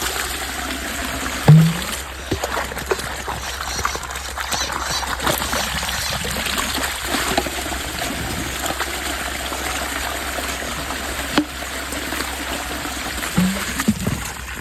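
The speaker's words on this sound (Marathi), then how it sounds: "तिथं आपण आता पाणी चालू केलेलं आहे" Irrigation water flowing into a farm field, a steady broadband rush and trickle that runs continuously, close and fairly loud, with occasional sharper splashes and no talk.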